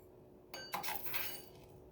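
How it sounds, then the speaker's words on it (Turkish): A teaspoon tips rock salt into glass jars of fresh corn, giving a brief run of soft clinks and a light granular patter against the glass in a quiet room. "Bir çay kaşığı kaya tuzu ilave ediyorum her bir kavanoza"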